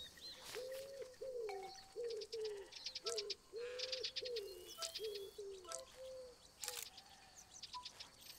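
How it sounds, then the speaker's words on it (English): Common wood pigeon cooing in Alba: A Wildlife Adventure, a rhythmic series of soft hooting coos in a steady phrase, with other birds chirping and tweeting throughout the outdoor ambience. "Common wood pigeon."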